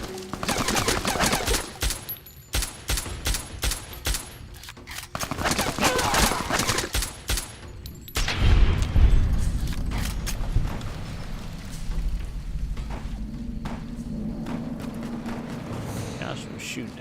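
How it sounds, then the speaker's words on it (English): Gunfire rattles in Fallout New Vegas, in the Honest Hearts DLC, as rapid repeated bursts and mechanical clicks with a heavier boom midway, under a player's voice. "Gosh, we're shooting at someone."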